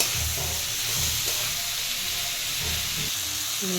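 Ground coconut, garlic and coriander paste sautéing in oil in a pan for a pumpkin dish, heard as a steady hiss and sizzle with low rumbling stirs underneath.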